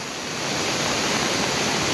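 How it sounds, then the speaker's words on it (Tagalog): Torrential floodwater rushes through a residential area during continuous rain, a loud, dense, unbroken roar that carries steadily without pause and builds slightly at the start. "rumaragasa na po talaga yung lakas ng tubig dito sa area"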